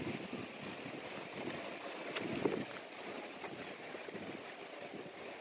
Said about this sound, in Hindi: अभी काफ़ी ज़ोर से हवा चल रही है तो शायद नॉइस आपको पता लगे